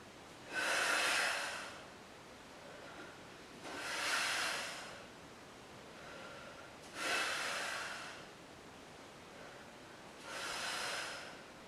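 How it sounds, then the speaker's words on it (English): Four strong, breathy exhales during a Pilates exercise, spaced about three seconds apart, each a forceful rush of air close to the mic with quiet pauses between. "Big exhale every time."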